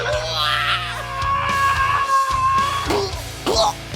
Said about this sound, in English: We gotta get some guttural screams in there.